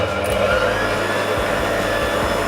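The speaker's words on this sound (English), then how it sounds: "you're going to give this a good old whisk until everything again is combined" A stand mixer whisks lemon buttercream for a gluten-free lemon cake, giving a loud, continuous motor whir with a faint rhythmic beat from the whisk.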